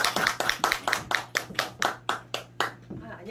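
An audience at a cultural foundation humanities lecture claps in a slow, even rhythm, about a dozen loud, distinct claps that fade out near the end, with faint talk in the background.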